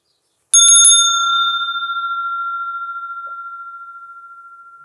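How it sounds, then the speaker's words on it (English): A meditation bell struck to open a guided meditation session gives a few quick bright strikes, then one clear ringing tone that hangs and slowly fades over several seconds, alone in silence. "I will begin just with the sound of my bell here"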